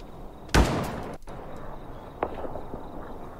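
Gunfire in the video game The Day Before: one sharp, loud shot followed by a fainter second shot about a second and a half later, over a low background hum.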